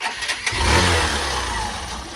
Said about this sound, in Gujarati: તો ગાઈસ બાઈક તો ચાલુ કરી દીધું